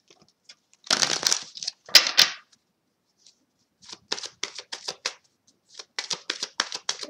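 A deck of tarot cards is shuffled by hand at close range, with quick bursts of riffling and rapid flicking taps in separate runs, crisp and clear over silence.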